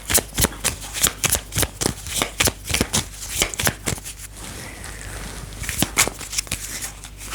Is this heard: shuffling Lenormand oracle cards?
yes